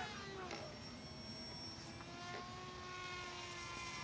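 Continuous whine of an electric RC model airplane motor held at half throttle, a steady droning buzz with stable harmonic tones, fairly distant and faint against outdoor air.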